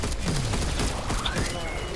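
Rapid gunfire in the co-op shooter Alienation on hardcore mode, a continuous fusillade of shots filling the two seconds amid game effects.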